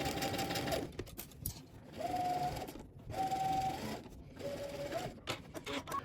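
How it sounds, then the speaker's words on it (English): A sewing machine runs in several close, steady bursts with brief pauses, stitching a seam at a half-inch allowance beside zipper teeth, loud and alone. "We're gonna head to the sewing machine and we're gonna stitch this down."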